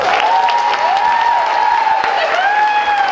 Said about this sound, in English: Ladies and gentlemen, your bride and groom, big round of applause, please.